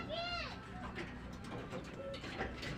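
Pigeons in a loft coo softly in the background, faint and low, while someone speaks nearby.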